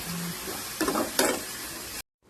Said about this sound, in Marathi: इथे आता गवारी भाजून घेऊया